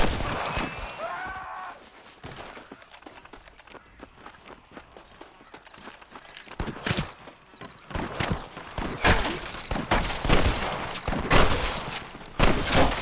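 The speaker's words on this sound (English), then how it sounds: "I can hear more gunshots" Gunfire erupts in a Red Dead Redemption shootout, a loud burst of overlapping shots and rapid volleys building through the middle and end, with running footsteps and hoof sounds mixed in.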